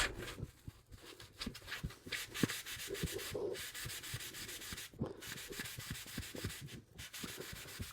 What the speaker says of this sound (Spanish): Y ahora le vamos a pasar una lija súper fina, así un poquito, para bajar el grano.